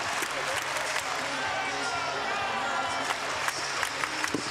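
Crowd noise fills a pro volleyball arena in Omaha, a steady wash of cheering and chatter with scattered claps and sneaker squeaks, a commentator talking over it.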